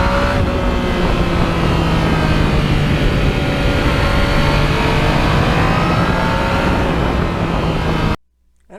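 A 2020 Yamaha MT-09 motorcycle being ridden, its engine droning loudly with rising and falling pitch as it accelerates, continuous until an abrupt cutoff near the end, no speech.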